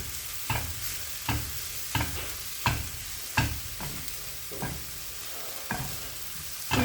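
Eggs scrambled with onions sizzle in a pan, with a steady frying hiss broken by regular stirring strokes, about eight scrapes spaced under a second apart.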